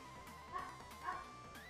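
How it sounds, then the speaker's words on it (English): A dog barks twice in a home, two short yips about half a second apart, moderately close and not very loud, over quiet room background with no talking. "that's one of my other dogs"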